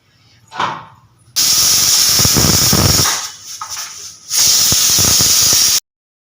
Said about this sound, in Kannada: ಸೊ ವಿಶಲ್ ಕೂಡ ಬಿಡ್ತು